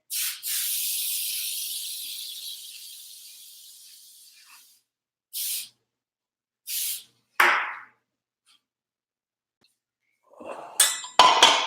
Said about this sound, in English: I'm gonna spray my pan over the sink because it gets everywhere when I spray it.